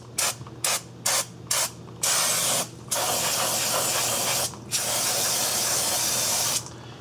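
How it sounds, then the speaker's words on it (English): Brake cleaner sprays onto rear drum brakes of a Ford Escape in short hissing bursts, then longer sustained blasts, close and loud with no talking. "So I'm going to take some brake clean."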